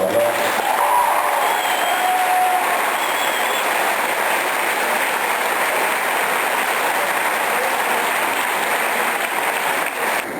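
Sustained applause from an audience at a school event, broad and steady for the whole stretch with no pauses, and a few voices faintly mixed into the clapping.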